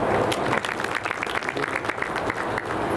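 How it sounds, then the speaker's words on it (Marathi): A crowd at a property expo inauguration breaks into loud, dense applause, many hands clapping close and steadily for a few seconds. "पुन्हा एकदा जोरदार टाळ्या झाल्या पाहिजे"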